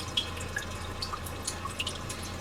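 Simulated rain from the Sounds of Nature system in a Hyundai Sonata, soft scattered droplet ticks and drips over a quiet low hum, gentle and fairly faint.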